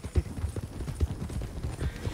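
Horse hooves clip-clop in the Red Dead Redemption 2 video game, a steady rhythmic run of low thuds close by, with faint voices in the background.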